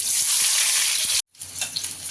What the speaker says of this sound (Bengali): তো পেঁয়াজটা একটু লাল লাল ভাজা হয়ে গেছে,